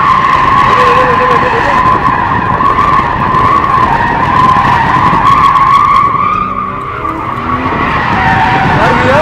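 BMW X3M drifting; loud, sustained tyre screech over a revving engine, close and continuous, easing off briefly near the end, with a voice faintly underneath.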